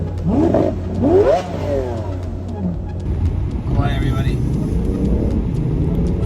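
Car engines rev loudly in bursts while drivers clear out their exhausts on a Bumblebee-themed road tour, rising and falling sweeps near the start with people talking over the engine noise.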